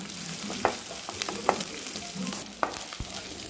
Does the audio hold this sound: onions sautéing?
yes